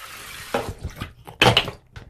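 A makeup blending sponge is rinsed under running water at a sink, with short splashing and trickling bursts over a brief stretch, close and moderately loud, no talking.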